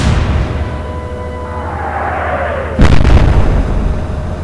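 Naval guns firing in the Atlantic Fleet battle game, a sudden heavy boom at about three seconds cutting through a steady low rumble and a falling whistle, then a sustained loud roar afterward.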